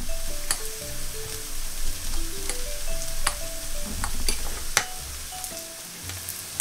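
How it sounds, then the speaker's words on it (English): Thinly sliced potatoes for a Spanish tortilla fry in a pan with a steady close sizzle, broken by sharp spattering pops and scraping stirs, and no talking. "you can slice your potatoes very thinly and fry those down"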